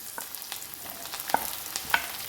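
Garlic and green chillies sauté in hot oil with a steady soft sizzle, broken by a few sharp scraping stirs of a spoon against the pan, heard close and alone.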